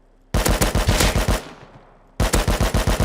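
Two loud, rapid bursts of automatic gunfire in the video game Rust, separated by a brief fading echo.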